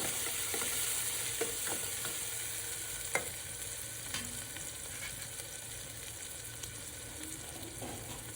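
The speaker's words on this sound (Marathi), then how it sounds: "एक टोमॅटो टाकणार आहे बारीक चिरलेला चांगलं हलवून घेऊया" Chopped tomato stirred into sizzling mutton fry gravy with onions in a pan, a steady loud frying hiss with intermittent scraping clicks of the spoon throughout.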